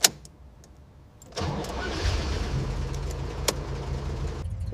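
A rebuilt BMW car's engine cranks and catches after a quiet moment, then settles into a steady, close idle with a brief rev, heard alone without talk.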